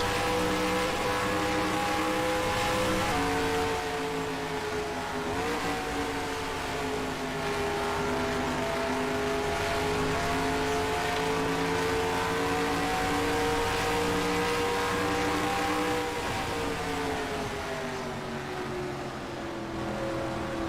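Onboard with a NASCAR stock car at Pocono in NASCAR Racing 2003, the engine drones steadily and loudly throughout, its pitch dipping and rising with each gear change and throttle lift.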